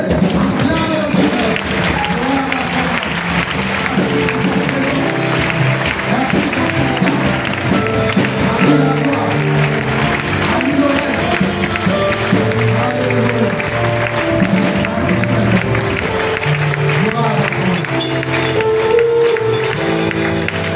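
A church congregation applauds and cheers loudly and continuously for about twenty seconds, with voices calling out over the dense clapping.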